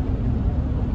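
Two-door Chevrolet Tahoe with an LS engine swap driving on the road, a steady low engine and road rumble heard from inside the cabin, with no talking.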